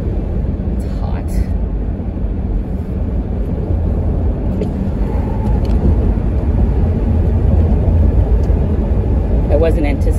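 A car drives along a winding country road near Huasna, its engine and road rumble a steady, loud low drone throughout, with brief rattles and wind noise; no talk rises above it.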